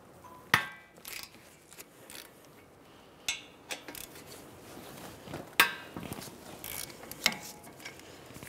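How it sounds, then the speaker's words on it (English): A ratchet with a 17 mm socket breaks loose the caliper bracket bolts on a 2010-2015 Lexus RX350 during a front brake job, giving scattered sharp metallic clicks and clanks that are close and separated by quiet pauses. "17 millimeter socket, I'm going to break both these caliper bracket knuckle bolts."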